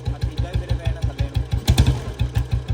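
A 1994 Standard Bullet motorcycle idles with a close, loud, evenly spaced single-cylinder thump, a few beats per second, with a brief heavier clunk midway.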